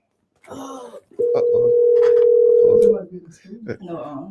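A steady telephone tone sounds as a caller phones in to a talk radio show, a single loud sustained beep lasting nearly two seconds, with people talking just before and after it.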